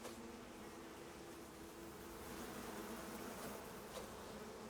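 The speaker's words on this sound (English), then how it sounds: "Gonna have to fight some bees for it." Bees buzz in the survival video game Icarus, a steady, soft droning hum that holds with little change throughout, with no voices over it.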